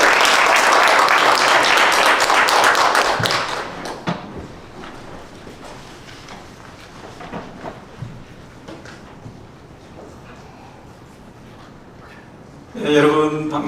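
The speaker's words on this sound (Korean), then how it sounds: "나오실 때 큰 박수로." Loud applause from a church congregation in Korea greeting a pastor coming up to give a lecture, a dense burst of clapping that fades out after about four seconds into quiet room noise, then a brief loud sound near the end.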